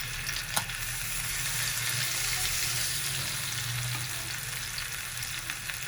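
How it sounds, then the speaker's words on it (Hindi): Marinated fish pieces sizzle steadily in oil in a pan over medium heat, a continuous close hiss with a brief clatter near the start as they are set down. "अब हम अपनी मैरिनेट की हुई फिश इसके ऊपर रख देंगे।"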